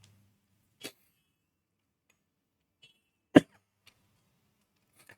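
A lone sharp cough stands out in a quiet room, with a fainter throat sound just before it and a few small clicks scattered around.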